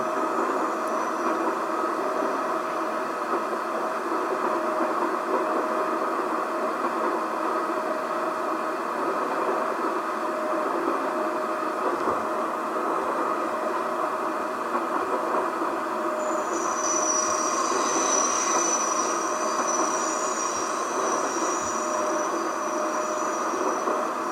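A London Underground train on the Hammersmith to Edgware Road route, in the World of Subways 3 simulator, runs with a steady rumbling, whooshing roar. A high wheel squeal rises in the latter part, and no one speaks.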